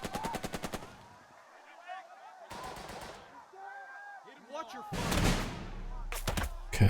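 Soldiers in the World War II tactics game Burden of Command open fire in sharp rapid machine-gun bursts, several distinct rattling volleys separated by pauses, with a voice speaking between them.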